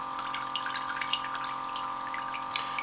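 Water runs steadily from a 20-meter solar-powered irrigation hose with a constant hiss and faint hum, fairly quiet and continuous, with occasional small splashes.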